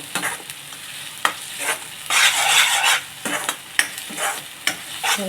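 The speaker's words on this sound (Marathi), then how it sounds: "चांगला परतला आता हे बघा बाजूने तेल पण सुटतं" Masala sautéing in oil in a pan for a Malvani white pea usal, with a steady sizzle broken by scraping stirs and a few sharp spoon knocks against the pan, close up and without talk.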